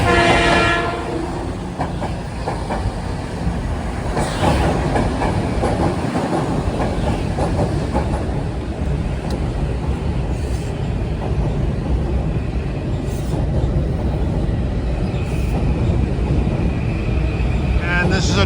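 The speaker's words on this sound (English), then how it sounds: "This is a train from Stamford, local." A local commuter train from Stamford passes through a Harlem station, its steady rumble and rail clatter loud and continuous, with a horn-like tone near the start and a voice talking over it.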